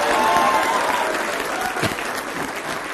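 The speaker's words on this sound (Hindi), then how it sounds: "बुलडोजर पर तालियां बज रही हैं" Studio audience applause during a Hindi TV debate show, a steady dense clapping that stays loud and even throughout.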